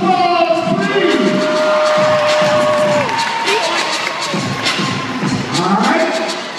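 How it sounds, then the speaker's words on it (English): Audience at a circus cheering and shouting at a Newark show, a loud sustained crowd roar with whoops, applause and rising and falling voices, with an announcer heard over it. "Please, round of applause, please."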